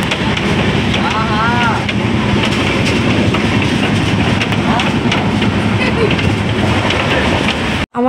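The Kandari Express runs steadily on the rails, a loud continuous rumble with rhythmic clatter heard from on board, and the sound cuts off sharply near the end.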